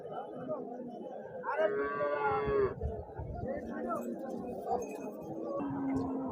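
A Holstein Friesian cow moos loudly nearby, a drawn-out low call, amid the chatter of a crowd and faint clinks at the busy outdoor Husnabad cattle market in Siddipet district.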